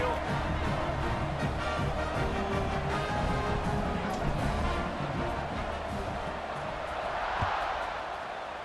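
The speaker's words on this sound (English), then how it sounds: "Do you think this crowd's going to get loud when their defense comes on the field?" A stadium crowd in the College Football 26 video game keeps up a dense, steady roar that stays loud for the whole stretch and eases slightly near the end.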